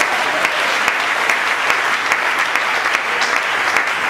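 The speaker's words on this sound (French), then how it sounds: "Donnez une acclamation pour vous" A church congregation in Cameroon bursts into sustained, loud clapping and applause, a dense even patter filling the whole stretch with no speech over it.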